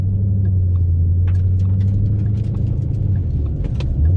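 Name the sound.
automatic car driving in drive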